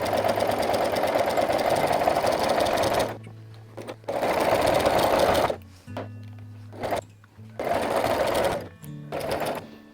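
A sewing machine stitches a quarter-inch seam on a quilt facing, running in a steady whirring burst for three seconds, then in several shorter runs separated by pauses, close and loud.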